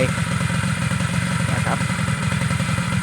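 A motorcycle fitted with off-road tires runs steadily nearby, its engine holding a low, even putter with a slight clatter and no clear change in pace.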